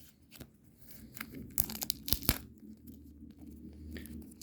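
Foil football card pack being torn open by hand, a few sharp ripping bursts over soft crinkling, close and moderately quiet, no talking.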